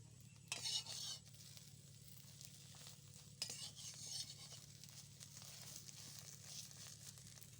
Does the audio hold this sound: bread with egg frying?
yes